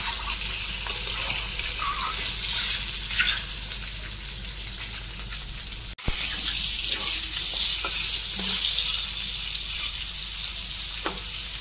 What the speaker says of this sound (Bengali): যে পটলটা বেশি ভাজা হয়ে যাচ্ছে